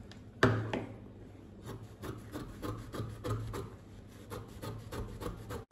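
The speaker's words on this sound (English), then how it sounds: "follow this line and cut this whole thing out" Scissors cut along a marked line through fabric to free a back panel piece for a pencil dress, making a run of close, repeated rasping snips after an initial sharp thump.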